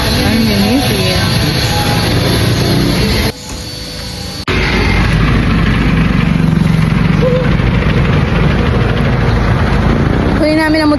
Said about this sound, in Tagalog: Kunin namin ang motor.